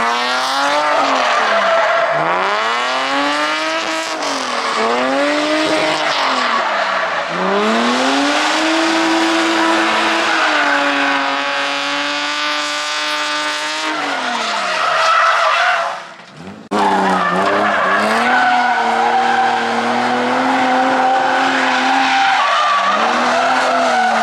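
A drift car at a drifting event at Sweetwater Motorplex in Niota, Tennessee spins with loud, continuous tire squeal over a revving engine whose pitch rises and falls in repeated sweeps, close and sustained, with a brief dropout near the end.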